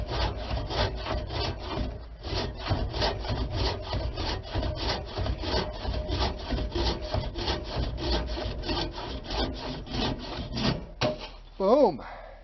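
An antique one-man bucking saw cuts through firewood in steady, rapid back-and-forth strokes, close and loud for most of the stretch, with a brief pause near the start and a voice near the end.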